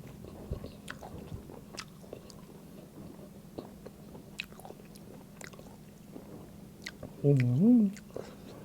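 Crunchy fermented pork skin (naem nang mu) is chewed close to the mic, with faint, scattered crisp bites over a quiet background and a short burst of voice near the end.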